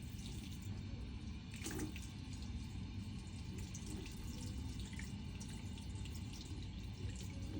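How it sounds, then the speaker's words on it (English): Hands rinsed under a running sink tap, a steady hiss of flowing water with soft splashing changes as the hands move beneath the stream, quiet and continuous with no talking. "I'm gonna go ahead and rinse thoroughly."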